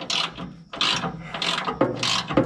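Ratcheting or rasping metal strokes come from a nut being worked loose on a John Deere Model 15 flail chopper cutter, four or five loud, close, evenly paced rubbing bursts with short gaps between them.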